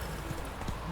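Horse hooves trotting in The Witcher 3 video game, a quick run of soft, muffled clip-clop beats lasting about a second.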